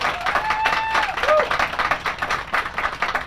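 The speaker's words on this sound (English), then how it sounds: "Let's give them a round of applause." Crowd applause at an outdoor Memorial Day ceremony in Lake Orion, a loud, dense burst of clapping running steadily throughout, with a brief whistle-like tone and a few voices mixed in.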